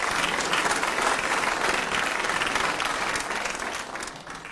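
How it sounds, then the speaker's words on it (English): Steady, loud applause from an audience at an ethical investment awards ceremony, a dense unbroken clapping that fades slightly toward the end. "Round of applause."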